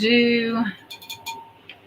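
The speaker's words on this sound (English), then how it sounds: "listen to that. You hear that? But that's art glass" An art glass bowl about six inches deep is tapped, giving a few bright clinks with short ringing tails, following a clear sustained tone that fades out.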